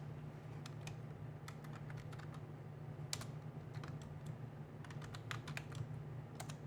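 Keys on a computer keyboard clatter in quick irregular bursts and single taps, soft and close, over a steady low electrical hum with no voices.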